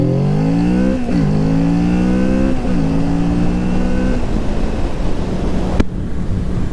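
Kawasaki Z650 motorcycle accelerating hard from 20 to 100, its engine note climbing steadily through several gear changes, each shift marked by a brief dip before the pitch rises again, loud and close amid wind noise.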